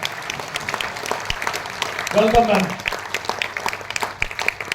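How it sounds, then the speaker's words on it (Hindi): Audience applause at an Ahmedabad seminar, clapping through the clip over background noise with a short spoken greeting in the middle. "इस शानदार जोड़े के लिए हाथ ऊपर करके दिल खोल के जोरदार तालियां एक बार।"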